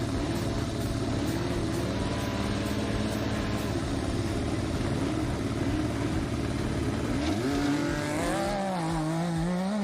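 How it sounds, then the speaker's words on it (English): A late model Can-Am race car lifts the throttle and launches off the start line, its engine roaring loudly and steadily, then rising in pitch as it accelerates away amid other racing engines. "The 610 John Deck sponsored entry lifts the throttle and is off the line, that late model Can-Am."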